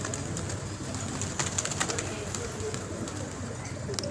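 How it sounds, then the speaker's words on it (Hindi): Pigeons among a flock of Hyderabadi pigeons in Delhi coo softly over a steady outdoor background of broadband noise, with faint bird calls and brief chirps mixed in. "और ये कबूतर है माशाल्लाह।"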